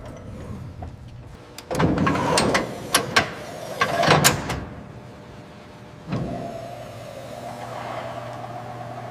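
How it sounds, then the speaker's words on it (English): The elevation servo motor of a restored WWII artillery gun whirs and whines in bursts, with mechanical clicks and clunks between, then settles into a quieter steady motor hum. "The elevation servo sounds clean."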